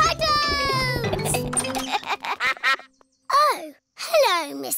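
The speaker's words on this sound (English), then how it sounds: "Hello, Mrs. Duck." A cartoon duck quacks in a bright, exaggerated voice, with several nasal quacks in bursts alongside a child's chatter and laughter, close and clear.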